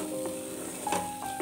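Khichuri is stirred in a pan, giving a steady soft sizzle with occasional scraping taps of the spoon, close and continuous with no talking.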